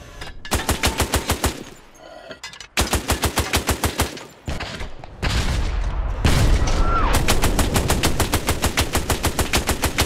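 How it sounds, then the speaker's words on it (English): Loud machine gun fire from the Hell Let Loose video game rattles in long rapid bursts, separated by short gaps and heavier booming impacts. "Where that machine gun fire is, mate, he's basically behind that."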